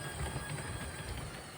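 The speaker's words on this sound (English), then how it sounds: "the train is coming around the corner here" A LEGO train runs around a curve on a layout track in a LEGO city, giving a soft, steady rolling rumble with faint rhythmic clicking of wheels, fairly quiet and heard on its own.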